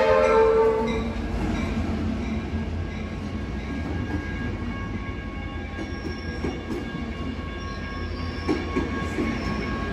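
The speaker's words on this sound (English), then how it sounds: "Depends on those freight trains." A BNSF freight grain train rumbles past in Puyallup, Washington, with a brief horn blast at the start, followed by steady rolling wheels and faint metallic squeals, loud and continuous.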